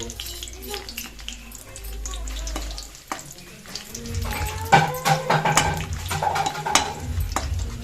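Dry red chillies frying in oil in a pan for tamarind pulihora, a steady close sizzle that builds louder and crackles in the second half, with faint clinks of cookware.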